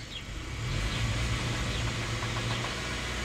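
Car engine, with a check engine light flashing, running with excessive noise around 2,000 to 3,000 RPM. A steady close low rumble and drone rises slightly in the first second, then holds level with no talk.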